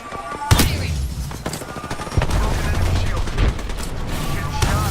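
Video game gunfire in Summon the Hoblings, sharp shots and rapid bursts cracking over a constant rumble of battle noise, loud and close throughout.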